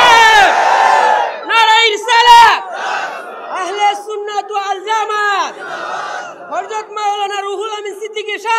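A large religious gathering's crowd roars a slogan back in unison, loud chanted bursts rising and falling over several seconds with voices overlapping.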